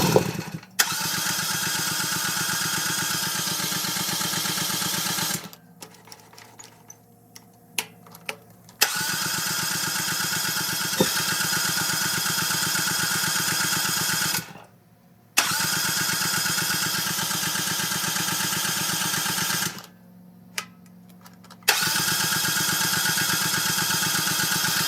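A small Chinese excavator engine with an air problem in the fuel line cranks and runs loud and steady, cuts out, then restarts, with several short quiet gaps between running stretches.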